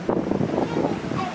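Strong wind gusts outdoors during tornado weather near the ocean, a loud continuous rushing roar that buffets the microphone with uneven surges.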